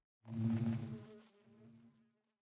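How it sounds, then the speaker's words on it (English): Minecraft bees in the All The Mods 10 modpack buzz in a short, loud swell that rises fast, then thins and fades over about two seconds, alone with no talk. "so we have some of these amber bees done, as well as I added more redstone bees"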